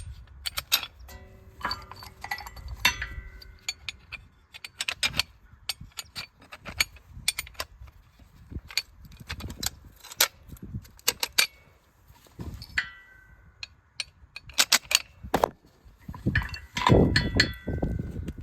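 Metal parts of a brush hog clutch clinking and rattling as bolts are set in place by hand, a busy stream of sharp close taps, jangles and ratchet-like clicks with brief pauses, no talking.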